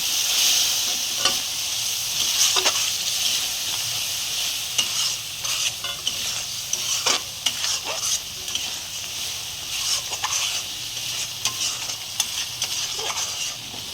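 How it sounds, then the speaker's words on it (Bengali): Spice paste for a banana flower curry sautéing in a pan with a little water, a constant bright sizzle under frequent scraping stirs, close and moderately loud, no voices. "এবার ভালো করে এটাকে কষিয়ে নেব"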